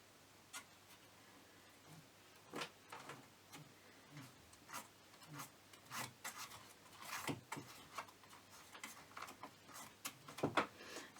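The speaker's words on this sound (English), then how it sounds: "slowly roll the aluminum foil on here" Aluminum foil is rolled and rubbed onto a cardboard sign, producing faint, close, irregular crinkly rubbing strokes and soft taps spread over several seconds with no talking.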